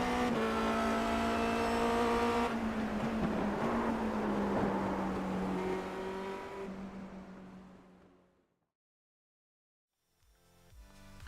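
Revving Formula Renault 2.0 race car engine at Oulton Park in iRacing, with a high buzzing tone that drops as the throttle lifts, fading into silence, then a brief burst of engine noise returns.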